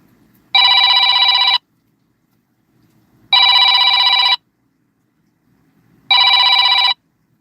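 A mobile phone rings three times in a quiet room, each ring lasting about a second with roughly two seconds of silence between them. The tone is loud, bright and electronic, like a bell.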